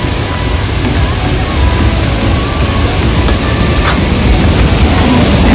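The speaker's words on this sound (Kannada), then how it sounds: "This is the foil." A waterfall in Goa pours with a steady, dense roar of broadband water noise that holds at a constant level across the whole stretch.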